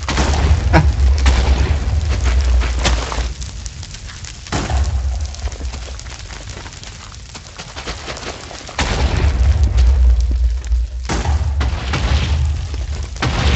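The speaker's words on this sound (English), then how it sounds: "I haven't seen any blocks drop from the explosions." Explosions in the Minecraft Instability mod boom repeatedly as loud, sustained rumbling blasts with crackling debris, swelling and fading over the stretch without speech.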